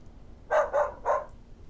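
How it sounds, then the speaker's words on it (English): A dog gives three quick barks, close and clear, in a quiet room. "right now it just sounds like a normal dog barking like in the room here"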